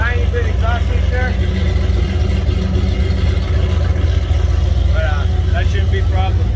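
A turbocharged Ford Mustang with a VS Racing 7875 turbo, a 4-inch exhaust and a slight exhaust leak idles with a deep, steady rumble, close and continuous, with faint chirps from the turbo.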